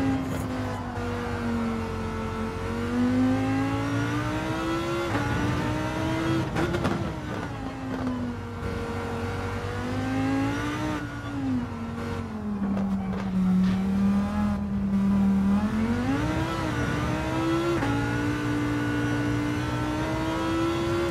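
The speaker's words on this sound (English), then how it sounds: "I'm down to first gear and then push the throttle extremely early" A race car in Gran Turismo 7 drops to first gear and accelerates out of a hairpin, its engine note rising and falling steadily over about twenty seconds, loud and close, with faint tire noise and no talking.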